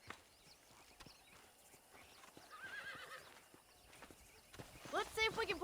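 Horse hooves clip-clopping and a loud whinny in the Western video game Red Dead Redemption during horse breaking on a ranch, steady hoofbeats building to a sharp neigh near the end, under light speech.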